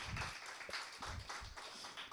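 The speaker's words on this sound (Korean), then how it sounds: "박수 쳐주세요" Audience clapping during a Korean church service, a quiet, steady patter of many hands with a loose, pulsing rhythm throughout.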